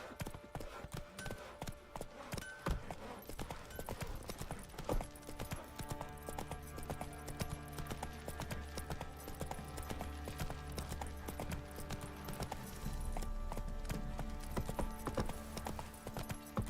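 Horse hooves galloping steadily in The Witcher 3, a fast continuous clip-clop with occasional whinnies over a constant game music and ambience bed, no talk.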